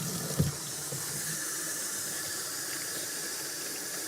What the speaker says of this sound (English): I'm going to use a paper towel to turn the water on.